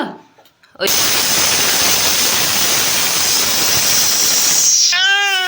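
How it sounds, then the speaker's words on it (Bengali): A pressure cooker whistles in a home kitchen with a loud, steady steam hiss that starts abruptly and runs unbroken for several seconds, then cuts off into a child's rising wail. "ওখানে প্রেসার কুকারে সিটি পাচ্ছে"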